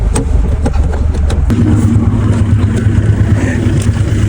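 A car engine runs during a driving lesson, a loud, close, steady rumble whose pitch shifts partway through as it settles into a lower, even drone, with no speech.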